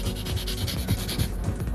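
An electric nail drill files fingernails and cuticles in a steady, close, grinding and rubbing whir with a rhythmic scraping pulse, and no talk.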